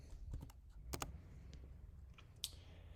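Keys tapped on a computer keyboard to enter a PIN during online login, a few soft, sparse clicks close by over a faint room hum.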